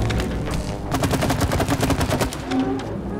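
Rapid repeated shooting of goop in the It Takes Two video game, a fast rhythmic burst of loud close bursts lasting a couple of seconds, then tapering off.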